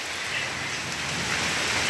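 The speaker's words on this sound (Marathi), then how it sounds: "ढग गरजत आहे पण अगदी थेंब तर पडतातच आहे" Heavy monsoon rain pours down outdoors as a dense, continuous hiss of drops on surfaces, steady and fairly loud with no voices.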